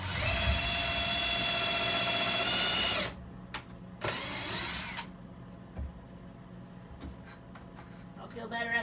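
A power drill whirs steadily up close as it drives a screw into a bed frame inside a Ford E-Series van conversion, then stops, followed by a short second burst and scattered clunks and handling noises.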